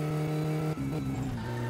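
Car engine in My Summer Car revving hard with a steady droning tone, then dropping in pitch midway as the revs shift and settle into a lower, slightly rising whine.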